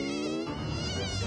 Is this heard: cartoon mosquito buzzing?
yes